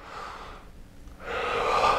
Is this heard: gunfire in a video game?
no